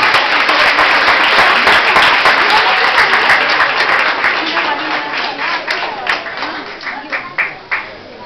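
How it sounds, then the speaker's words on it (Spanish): Loud applause from an audience at a singing workshop fills the space for a singer's original song, dense clapping that starts full and thins into scattered separate claps toward the end, with some crowd voices mixed in. "Un fuerte aplauso para él."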